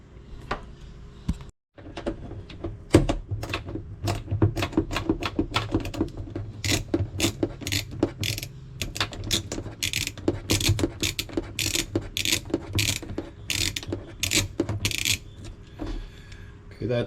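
A ratchet loosens a 7 mm hose clamp on the supercharger of a 2024 Yamaha FX Cruiser SVHO, with long, rapid runs of close, crisp clicks that hold a steady rhythm and pause only briefly.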